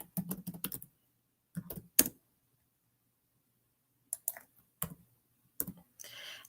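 A computer keyboard typed on in short bursts of quick, close keystrokes, with pauses between the bursts.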